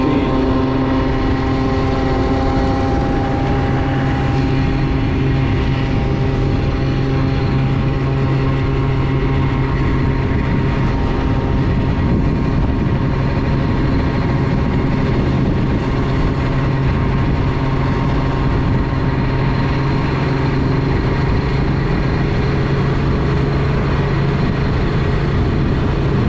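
A Honda Elite SR scooter engine runs continuously and loudly close by, a steady droning hum with a faint rattle that holds throughout.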